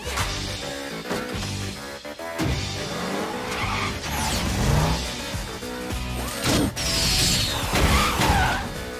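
A cartoon car in a Teen Titans Go chase skids and screeches repeatedly, with tire squeals, revving engine bursts and impact-like hits over a busy, loud action soundtrack.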